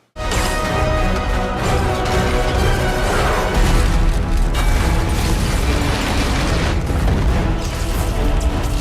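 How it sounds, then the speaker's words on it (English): Loud, sustained destruction from the Iron Man 3 mansion attack scene, with booming blasts, crashing debris, grinding and creaking metal all piled together in a dense, continuous roar. "Tony Stark's mansion was destroyed by the Mandarin's army"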